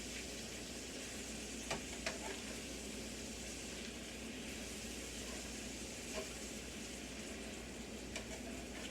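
Meat cooks in a pan for enchiladas with a continuous low sizzle and occasional faint clicks from stirring, steady and unbroken, with no voices.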